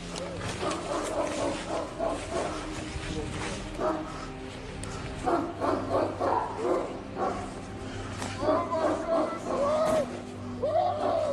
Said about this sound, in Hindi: इस वीडियो में एक गोली के चलने और कुत्तों के मुसलसल भौंकने की आवाजें भी सुनाई दे रही हैं।